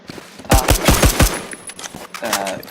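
A .50 cal Beowulf rifle fires in the video game Phantom Forces: a loud, close burst of four or five rapid booming shots, a short pause, then a couple more reports trailing off.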